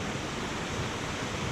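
A waterfall in Western North Carolina gives a steady, dense rush of water, heard near its lower falls as an unbroken roar without talk.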